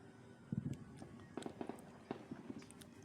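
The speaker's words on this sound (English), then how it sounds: "Fireworks" Fireworks pop and crackle across a river, a scattered series of sharp, fairly distant bursts arriving in small clusters.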